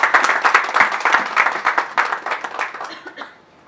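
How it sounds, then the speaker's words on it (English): A live audience at an architecture talk bursts into warm applause welcoming someone speaker to the stage, with dense clapping that holds steady and then tapers off near the end. "Everybody, please let's welcome her with a huge round of applause."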